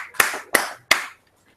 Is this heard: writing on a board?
no